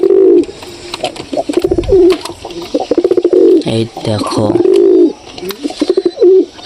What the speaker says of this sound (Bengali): ডাকটা শুনে কীরকম মনে হচ্ছে পায়রা পায়রা ডাক না পায়রি পায়রি ডাক